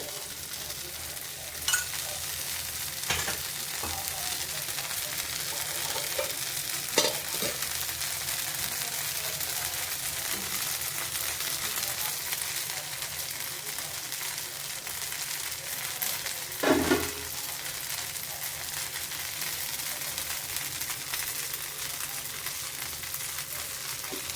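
Ragi masala dosa frying in oil on a hot pan, a steady close sizzle and crackle running throughout with occasional scraping taps and clinks, no voices.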